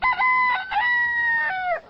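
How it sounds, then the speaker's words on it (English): A rooster crows loud and close in a single long cock-a-doodle-doo call of about two seconds, rising and holding a steady pitch before trailing off, with no talk over it. "Fred the Rooster's piping in."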